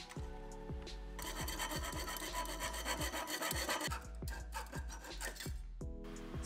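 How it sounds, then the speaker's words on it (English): A half-inch copper pipe being cut with a hand saw, rapid rhythmic rasping strokes up close, set against a steady musical backing track. "So I'm gonna cut the pipe down to 14 inches."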